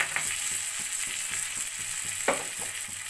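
Four slit green chillies frying in a pan with cooked ginger, garlic and tomato paste, a steady close sizzle with soft stirring scrapes and a sharper clack near the middle.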